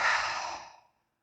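A single deep, audible exhale during a beginner Tai Chi breathing movement, close and breathy, fading out smoothly after about a second.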